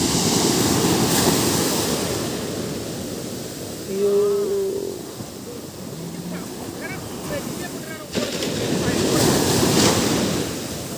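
Sea waves at Alappuzha Beach break and wash in a continuous loud roar, with heavier surges near the start and end, buffeted by wind against the microphone. A brief tonal sound rises midway.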